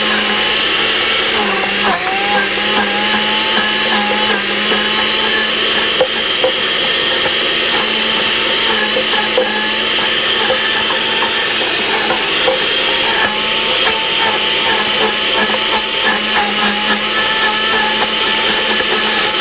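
A blender whirs steadily throughout, grinding fresh herbs into a thick paste for a home remedy, with a constant loud motor drone and a slight grinding texture as the contents churn.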